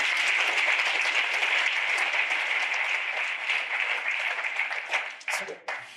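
An audience at a faith-themed show claps together in a sustained, even burst that thins out and breaks into a few scattered claps near the end.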